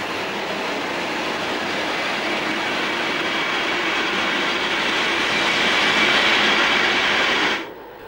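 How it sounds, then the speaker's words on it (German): A DB class 116 electric locomotive with a single-sided Buchli drive starting off with an express train toward Munich, a loud, steady rolling rumble of rail and wagon noise that builds and then cuts off abruptly near the end. "Anfahrt der 116017 mit ihrem Eilzug in Richtung München"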